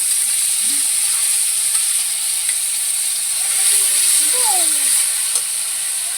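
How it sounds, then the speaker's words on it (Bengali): Spice paste sizzles steadily in a pan of fried eggplant, a close, even hiss with no pause, and a few faint scrapes and a brief distant chirp are heard beneath it. "এবার আমি মশলাটা দিয়ে একটু কষাবো কোনো রকম বেশি কষাবো না"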